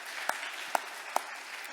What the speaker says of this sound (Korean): 새 가족들을 환영하는 뜻에서 박수 한 번 더 하시겠습니다